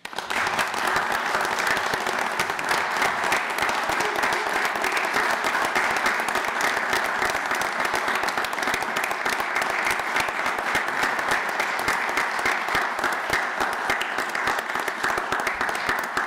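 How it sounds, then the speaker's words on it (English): A city council meeting audience in Williamsport applauds an honoree, with dense, steady clapping sustained at an even level for about sixteen seconds and no talk over it. "if we could give Kenny a round of applause."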